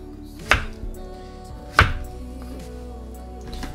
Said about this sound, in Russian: таким ножом мы нарезаем всю нашу дыню